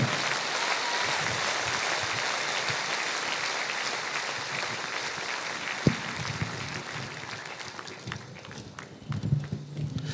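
A church congregation at an Easter service applauding, a broad steady patter of many hands fairly close, thinning toward the end with a sharp knock partway through.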